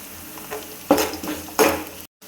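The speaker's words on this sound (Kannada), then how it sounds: "ಆಮೇಲೆ ನಾನಿಲ್ಲಿ ಈರುಳ್ಳಿ ಹಾಕ್ತಾಯಿದ್ದೀನಿ" Chopped onion and ginger fry in hot oil in a pan, with two loud bursts of sizzle as the pieces go in and are stirred. Each burst settles to a low hiss before the sound cuts off.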